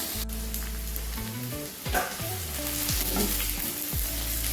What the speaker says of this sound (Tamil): நல்லா வதங்கிடுச்சுங்க இதுவும் நல்லா வதக்கணும் வெங்காயம் நல்லா சிவப்பு வதங்கிடணுங்க